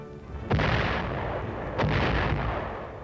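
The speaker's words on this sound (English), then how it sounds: "Mortar fire is one of the infantryman's greatest enemies." Mortar rounds firing, two heavy booming blasts about a second apart with rumbling tails, loud and close.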